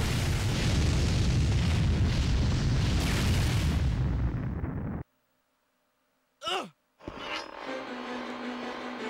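A Spirit Bomb attack erupts in the PlayStation 2 game Clock Tower 3 as a loud, sustained rumbling blast. It cuts off abruptly into silence, then a brief sweeping tone and a further low rumble follow.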